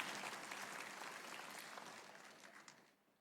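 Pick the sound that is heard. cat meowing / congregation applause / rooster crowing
congregation applause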